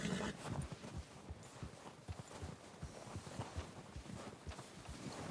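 Horse hooves clip-clop at a steady walking rhythm in the video game Red Dead Redemption 2, close and fairly quiet, with several overlapping steps and no speech.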